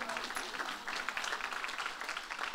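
A church congregation applauds, a soft, distant patter of many hands clapping continuously for a couple of seconds at low level.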